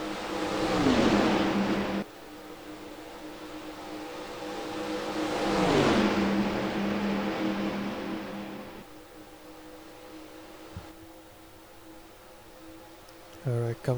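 Stock race cars roar around Talladega in a racing video game, two loud engine passes sweeping by with rising and falling pitch, then a steadier drone of the pack at speed.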